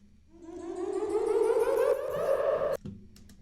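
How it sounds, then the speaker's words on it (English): A synth riser made from a high-pitched sample sweeps steadily upward in pitch, swelling louder as it rises, then cuts off sharply with a short tail. "This is a little riser I made from one of those high pitched noises"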